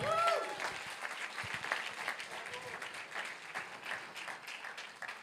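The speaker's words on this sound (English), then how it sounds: "Big applause." Audience applause at a startup demo day, a steady broadband wash of clapping from a crowd that holds for several seconds, with a voice briefly audible at the start.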